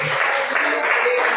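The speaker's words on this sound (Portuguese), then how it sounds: "Vamos aplaudir o nome de Jesus." A church congregation applauds in a dense, continuous wash of clapping that fills the hall for the whole brief moment.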